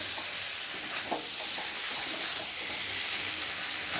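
Taro being sautéed in a pan with Kashmiri chili powder gives a steady, close sizzle with soft stirring scrapes throughout, no talking.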